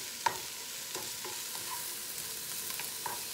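A chickpea scramble sizzles steadily in a frying pan, a constant close frying hiss with a few faint utensil scrapes and stirs, no voices.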